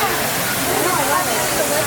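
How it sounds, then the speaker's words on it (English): Water rushes from the reverse waterfall fountain at Epcot, a loud, steady roaring hiss with a faint voice talking beneath it. "I really love that reverse waterfall."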